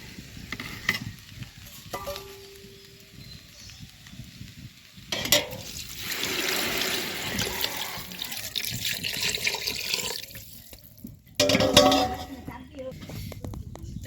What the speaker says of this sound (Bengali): এখন এর মধ্যে দিয়ে দিবেন পানি পরিমাণ মতো।